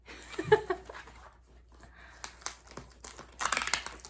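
Packing tape torn and crinkled while a heavily taped mail package is ripped open by hand, bursts of crackling and tearing, loudest near the end, with faint voice sounds between.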